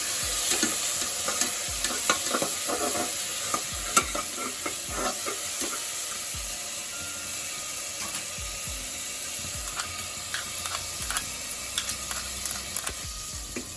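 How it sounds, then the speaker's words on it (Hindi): Garlic paste for mutton curry fries in a pan, a soft continuous sizzle under intermittent scraping and clicking of a spoon stirring, fairly quiet and close with no voices. "टिके अल्प समय कसिबा रसुन पेस्ट।"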